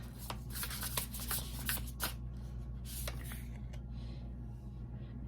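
A deck of oracle cards is shuffled by hand for a love tarot reading, with repeated crisp riffling and flicks up close that slow into softer rubbing. No one speaks.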